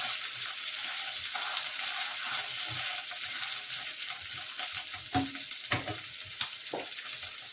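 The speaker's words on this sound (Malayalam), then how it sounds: "നമ്മുടെ മീനൊക്കെ മൊരിഞ്ഞ് വന്നിട്ടുണ്ട്" Mackerel fries in a pan with a constant close sizzle, broken by occasional clinks and scrapes of a utensil turning the fish, and no one speaks.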